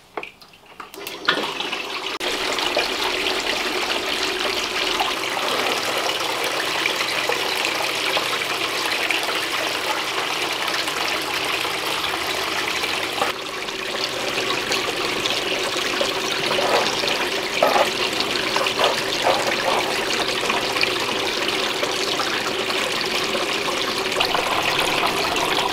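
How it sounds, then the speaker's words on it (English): Water rushes steadily through a gold sluice box as concentrates are rerun and spoon-fed, a loud, continuous broadband wash and gurgle that stays constant throughout, close by, with no talking. "I think you're going to want to see a little time lapse of me spoon feeding the sluice."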